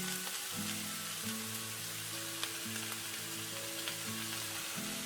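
Shredded cabbage, squeezed by hand, frying with sautéed vegetables for a pie filling, giving a constant soft sizzle and crackle, with a gentle melodic music line playing underneath.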